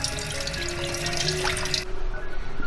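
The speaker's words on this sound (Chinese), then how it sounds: "杀好的鲈鱼再清洗干净" Running tap water pours steadily over a gutted sea bass being rinsed in a kitchen sink, a close, continuous splashing rush that cuts off abruptly near the end.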